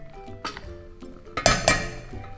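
Clinks from a spoon of butter going into a metal pot on a stove, several sharp metallic taps and clatters of varying loudness, the two brightest ringing hits coming close together near the end.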